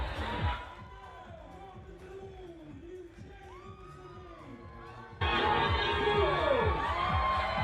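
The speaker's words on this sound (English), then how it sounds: "would have heard the crowd rise for Louise Flockhart there" Crowd at the British Bouldering Championships 2023 finals rising in cheers and whoops for a climber, a steady roar that surges louder partway through, with voices talking over it.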